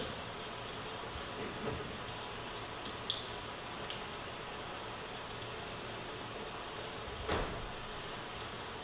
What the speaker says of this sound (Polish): Padał deszcz.